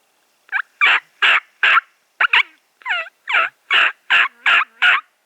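A wild Merriam's turkey gobbler in the Black Hills of Wyoming gobbles repeatedly, giving about a dozen loud, rapid rattling bursts in a clear sequence, with nothing else in the background.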